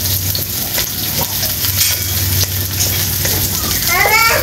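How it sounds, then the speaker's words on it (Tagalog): Food sizzles and fries in a hot pan while being stirred during home cooking, a steady loud crackle with children's voices and chatter in the background. "Magigisa na."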